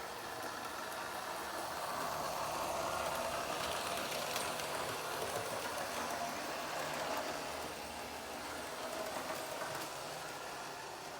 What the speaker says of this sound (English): my train is running, or I should say my engine.